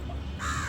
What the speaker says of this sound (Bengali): কাকটা ওর সঙ্গীকে ডাকছে